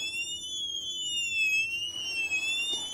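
Anti-theft alarm sensors in a Ducato-type camper van sound with a high, warbling electronic wail that sweeps up and down continuously, loud and near.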